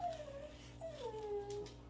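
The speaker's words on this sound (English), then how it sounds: "I don't know if you can hear my dog in the background." A dog whimpers in high, wavering whines, two drawn-out cries separated by a short pause, fairly faint against a steady low background hum.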